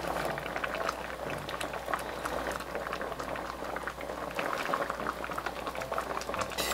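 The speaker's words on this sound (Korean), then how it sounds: "물 600ml, 중불에서 10분간 끓여주세요" Braised hairtail fish with onion and seasoning simmering in a pot of water over medium heat, a dense, steady bubbling boil heard up close throughout.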